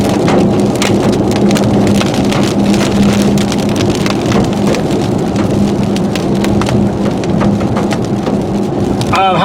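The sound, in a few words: hailstorm with thunder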